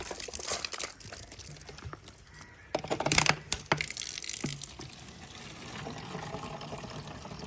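Water is poured into a car engine beneath the open bonnet, a splashing, gurgling stream with crinkly, uneven bursts that swell in the middle and then settle into a steady, softer trickle.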